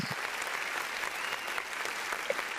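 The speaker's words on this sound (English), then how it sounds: "I'm basically clapping for you." A group claps steadily for a few seconds, dense and even, moderately loud and with no talking over it.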